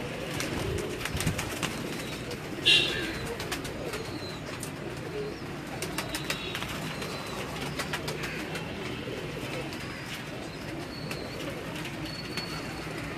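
Neel Dumbi breed pigeons from a Faisalabad loft coo softly and steadily over a busy outdoor background, with a brief sharper sound near the start and no voices.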